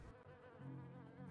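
A thin insect-like buzz of sting bees, used as ammo in Stranger's Wrath, drones on steadily, faint and close, with a low hum swelling midway through; no voices.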